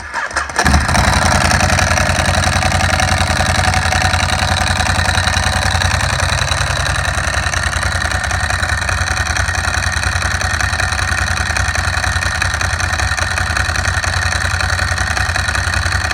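A Ducati Hypermotard 1100 motorcycle with stock exhaust cranks and fires up, then settles into a loud, steady, close-up idle with a throbbing low rumble that holds for the rest of the clip.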